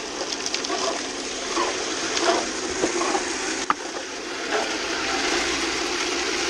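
Water running from a tap outdoors in the morning, a continuous, fairly close hiss and splash with a few small knocks, alone and without voices.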